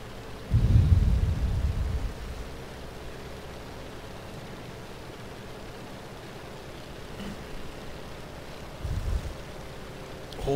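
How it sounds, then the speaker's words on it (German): Strong wind roars through a flight simulator on a co-op flight from Liverpool to Edinburgh, with deep rumbling gusts swelling at the start and again near the end over a low steady background. "Oh, krasser Wind hier, aber richtig heftig."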